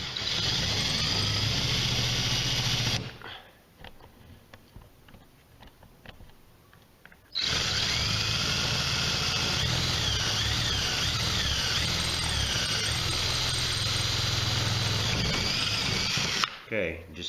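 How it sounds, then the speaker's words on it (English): Power drill boring holes through the hood of a 1999-2004 Jeep Grand Cherokee for a Mustang hood scoop, a loud steady whine that breaks off for a few seconds, then returns and runs on at length. "now you could drill them out to the 1/4 inch"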